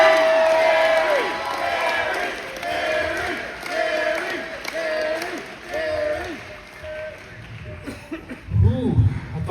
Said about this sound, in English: You all haven't stopped cheering yet.